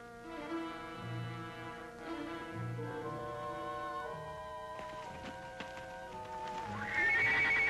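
A horse whinnies and clip-clops beneath a swelling orchestral score in an old Western scene, the hoofbeats and neighs mixed in with sustained music that rises louder toward the end.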